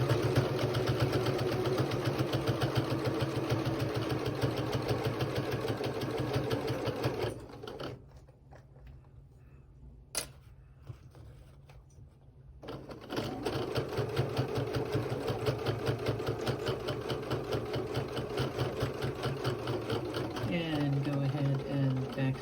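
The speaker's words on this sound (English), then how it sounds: "we're going to go ahead and take some back stitches here and sew right up the side" A sewing machine runs in a fast, steady whir while back stitching up the side of a sewing project, pausing briefly midway before resuming, close by, with a voice speaking at times.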